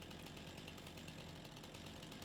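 A chainsaw runs continuously, cutting into a spruce tree in the Farming Simulator 25 game, its dense buzzing engine drone steady and loud throughout, with no talk over it.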